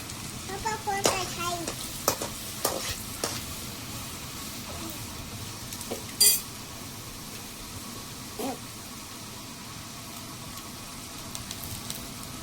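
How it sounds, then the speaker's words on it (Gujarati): Garlic fries in hot oil with a soft, continuous sizzle, fairly faint throughout. A voice talks over the first part, and a few light clinks and taps break through. "તો હવે તેલ ગરમ થઈ ગયું છે. આપણે નાખી દઈએ લસણ. લસણને ઘડીક સડવા દેવું છે."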